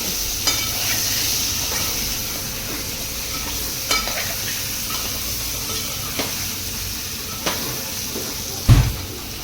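Potatoes and vegetables with a little salt cook covered in a pan on steam, giving a soft continuous sizzle and hiss with a few faint clinks, close and fairly quiet, no talk.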